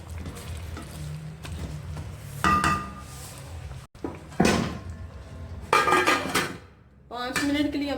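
Metal lid and cookware clattering over a pan of chicken and onions on a home stove, several sharp knocks and scrapes spaced across the clip, with some faint speech.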